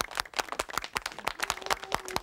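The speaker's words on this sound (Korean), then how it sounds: "박수로 부탁드리겠습니다." An audience claps throughout a Korean stage performance by disabled singers, dense and fairly loud with sharp, uneven individual claps and no talk.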